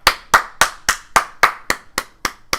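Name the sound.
one person clapping, a round of applause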